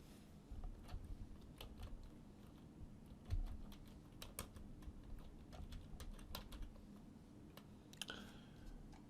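Steady keystrokes on a computer keyboard enter a search term, a run of close, distinct clicks spread evenly over several seconds with one heavier tap partway through, alone against a quiet room hum.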